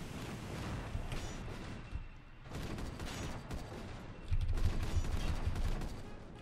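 Machine-gun tank firing in the game Super Tank Rumble, rapid rattling bursts at moderate volume, broken by a short lull and then a stronger closing volley, with no talking.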